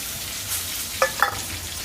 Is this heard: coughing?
no